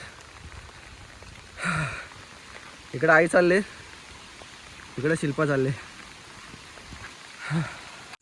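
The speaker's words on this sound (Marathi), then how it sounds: "पावसाने सुरुवात केलेला आहे जोरात" Heavy monsoon rain pours steadily as a constant hiss through a village travel stretch, with people speaking over it now and then.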